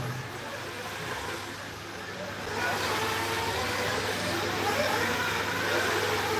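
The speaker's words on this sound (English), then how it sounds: "A lot more cars coming in all at the same time now." Several nitro-powered RC cars at an expert Tekno winter-series race pour into the pit lane together, a dense steady high-pitched engine buzz that swells louder midway and holds, with no clear talk over it.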